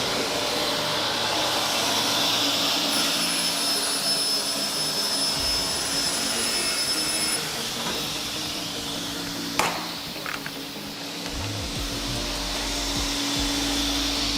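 A saw cuts through a cabinet panel for a base cabinet, a loud continuous whining roar that holds steady throughout, with a short clunk near the end as the cut finishes.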